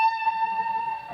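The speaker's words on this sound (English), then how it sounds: "when I hit that note," Double-tracked electric guitar holding one sustained note with a slight tuning mismatch between the two takes, a clear steady tone with bright overtones that fades near the end, heard alone.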